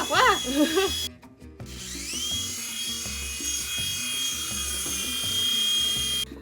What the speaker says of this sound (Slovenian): tale helikopterček, ko ga moram na hitro malo napolniti, zato da bo deloval